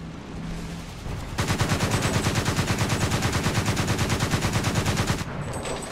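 Rapid sustained burst of 35mm autocannon fire from a Gepard SPAA in War Thunder tank combat, loud and close, a dense steady rhythm of shots running about four seconds before cutting off.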